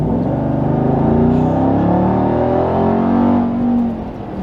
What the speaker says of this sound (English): let's take it out, drive it, so you guys can hear what I'm talking about.